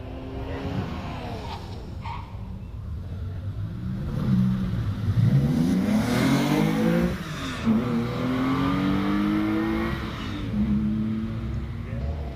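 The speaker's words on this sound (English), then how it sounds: "Next along, here's Wayne Eason, number 145. Factory hard top on a Porsche Boxster." A Porsche Boxster with a factory hard top runs up the Prescott hillclimb course, its engine rising and falling in pitch through gear changes as it passes fairly close and loud, with steady crowd and track ambience around it.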